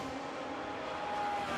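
A GT3 race car climbs the hill out of Raidillon at Spa during a qualifying session, its engine a steady, moderately distant drone that holds level throughout.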